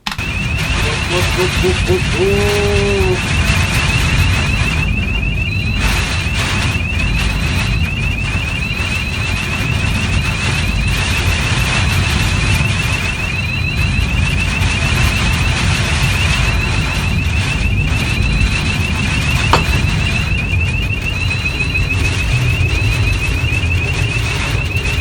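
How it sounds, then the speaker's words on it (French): Strong wind of about 100 km/h roars without a break at a crane site, a dense rushing noise buffeting the microphone, with a thin steady whine running high above it. "Écoutez, vous avez entendu 100 km/h de vent."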